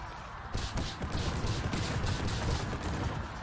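Bomb explosions from the Hearthstone card game, a dense run of booming blasts and crackling bursts that roll on continuously at steady loudness for several seconds.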